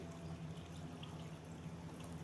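Water pours steadily through a micro mat gold sluice, a continuous faint rushing wash with no breaks or voices.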